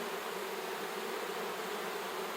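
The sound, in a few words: honey bees buzzing around an opened hive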